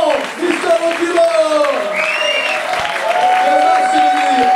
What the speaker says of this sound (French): Et merci, applaudis à Nicolas, de Madagascar